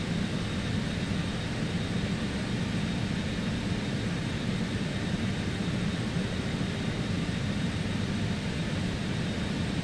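Steady, unbroken roar of BAe 146 jet engines during descent in Microsoft Flight Simulator, a broad low rumble with hiss above it that holds constant throughout, with no voices.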